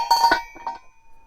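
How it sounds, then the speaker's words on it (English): A .308 bullet strikes a half-inch steel plate, giving a brief metallic ring with a clear tone that fades in about a second, distant and alone. "it's going to be pretty hard to hit this 1/2 inch steel plate"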